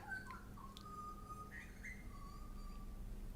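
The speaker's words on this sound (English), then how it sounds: "Hey, birds." Birds chirp outdoors in faint, thin whistled calls, a few separate phrases heard from a distance over a low steady background hum.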